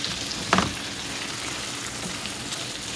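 Buttered shrimp and vegetables sizzle steadily in a pan, making a constant close hiss with a single louder stirring scrape early on.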